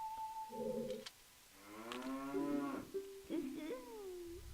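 Cows in The Legend of Zelda: Majora's Mask let out a sequence of synthetic, tonal moos: a short call, a pause, then a longer wavering low moo with a few brief bends near the end, heard clearly and alone.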